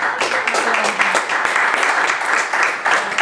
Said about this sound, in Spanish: denle un aplauso a las mujeres